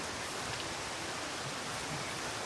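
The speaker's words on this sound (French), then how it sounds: "Il pleut encore" Rain in the video game Zero Sievert falls as a dense, continuous hiss. It stays steady and fairly loud throughout and sounds like a constant downpour with no voices over it.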